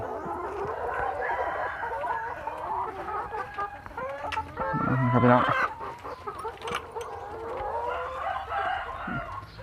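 Egg-laying hens cluck and chatter continuously up close, with a louder bird call rising briefly in the middle.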